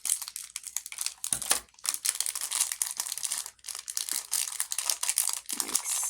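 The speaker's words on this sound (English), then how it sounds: "you're gonna need scissors for these. Just going to cut along the dotted line." Close crinkling and snipping of cardboard packaging being cut with scissors, steady rustles and crunches with brief pauses, no voices.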